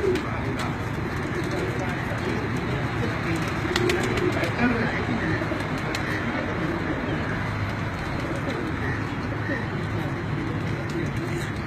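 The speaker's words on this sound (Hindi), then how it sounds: "नवीद साहब के ब्रीडर कबूतर जो हैं उनका मैं आपको लाइव शो करवाता हूँ।" Breeder high-flying pigeons coo softly amid a busy, noisy background with muffled voices talking, steady throughout.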